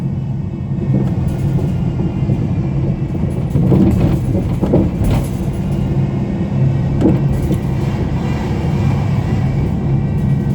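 Steady rumble of a car driving along a road, heard from inside the vehicle, with a constant low engine and road drone and no talking. The road runs past a McDonald's in Birstall, on through Rothley, Mountsorrel and Quorn, and into Loughborough.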